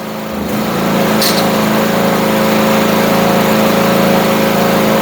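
A small Chinese-made FF Industrial mini excavator's engine runs at a steady idle, a continuous mid-pitched drone with a faint harmonic hum that holds even and loud throughout, with no voices.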